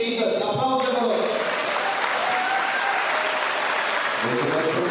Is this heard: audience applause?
yes